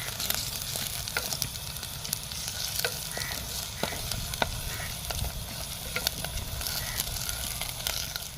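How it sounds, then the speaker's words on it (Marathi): Ginger garlic paste sautés in a clay pot, giving a constant soft sizzle and crackle with occasional light stirring scrapes, close and steady with no voices. "आता आपण यात अद्रक आणि लसूणची पेस्ट ॲड केली आहे आता चांगलं मस्तपैकी परतून घ्यायचं आहे"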